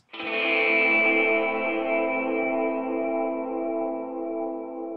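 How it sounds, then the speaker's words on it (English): Game start stinger for RimWorld run through an analog delay, a single bright synth chord that swells in and sustains with a smeared, echoing tail, alone and fairly loud. "and I've got another analog delay."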